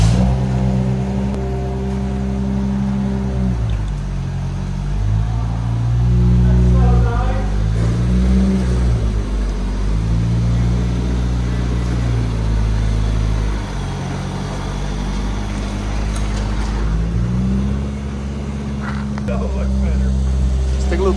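Suzuki Samurai engine on a test drive, running steadily with repeated rises and falls in revs as it accelerates and shifts, close and loud, with occasional talk over it.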